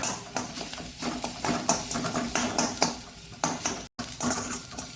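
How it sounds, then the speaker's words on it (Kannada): Ground masala roasting in a pan over low heat for rasam with carrot and tomato, a spoon scraping and clinking against the metal in quick, irregular strokes, close and fairly loud with no talk. "ಸಣ್ಣ ಉರಿಯಲ್ಲಿ ಸ್ವಲ್ಪ ಹಸಿ ವಾಸನೆ ಹೋಗುವವರೆಗೆ ಹುರಿದುಕೊಳ್ಳೋಣ"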